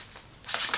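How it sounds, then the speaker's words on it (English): Tarot cards are shuffled by hand in a brief riffle, a quick papery flutter that swells toward the end, close and soft, with no talking. "I feel like shuffling again"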